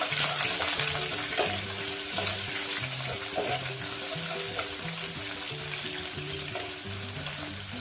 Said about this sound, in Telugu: పొడవుగా కట్ చేసుకున్న ఒక ఉల్లిపాయ, ఒకసారి వీటన్నిటిని కలుపుకున్నాము